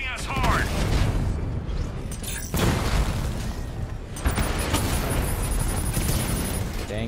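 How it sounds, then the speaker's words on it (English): Missiles striking during combat in Batman Arkham Knight: loud, dense booms and rumbling blasts in repeated bursts, close and heavy, with sharp impact hits and mechanical clatter over a constant roar. "Dang missiles."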